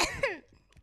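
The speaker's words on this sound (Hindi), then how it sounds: "खांसी है खांसी" A woman gives a sharp, throaty cough up close, a burst followed by a rasping tail and a short quieter breath after, with no talk during it.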